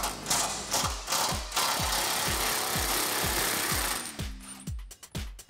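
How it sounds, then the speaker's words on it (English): A ratchet and 10mm socket loosen a brake line bracket on a Jeep Wrangler JK, giving a quick run of evenly spaced metallic clicks, close and fairly loud, that slows and grows irregular near the end. "I'm going to take that 10mm socket and just loosen up this brake line bracket right here"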